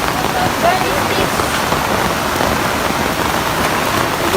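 Steady, dense rain pours down outdoors on a rainy hiking day, a constant full hiss of drops with no pauses.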